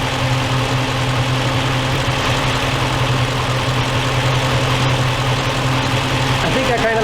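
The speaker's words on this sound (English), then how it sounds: "I think I've heard the fan RPM come up just a little bit" A 4.7L Jeep Grand Cherokee engine idles with an electric cooling fan running, giving a loud, steady low hum and whirring drone with no change for the whole stretch.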